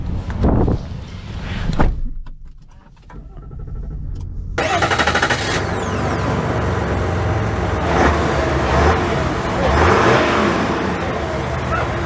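A 2024 Chevy Silverado 1500 with the Duramax diesel engine starts with door thumps and cabin rustling, then a broad, steady engine drone with road noise takes over and continues evenly as the truck gets underway.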